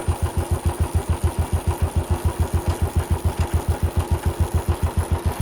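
Motorcycle engine running steadily in gear with a regular, rapid low thumping pulse, loud and close, as the rider shifts up to third gear on a four-speed bike; no talking.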